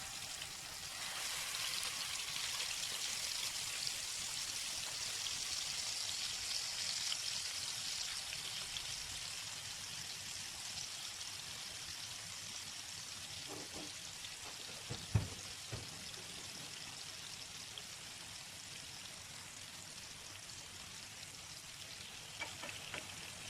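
Salmon fillets fry in oil in a pan over a low flame with curry leaves, giving a continuous soft crackling sizzle. A couple of brief utensil knocks come near the middle, and no one speaks.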